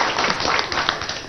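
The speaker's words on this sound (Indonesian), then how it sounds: "Tepuk tangan lu buat Pak Pras" Audience clapping for Pak Pras, the DPRD chairman, at a Jakarta talk-show gathering; a short, dense burst of broadband applause at steady loudness with no clear voices over it.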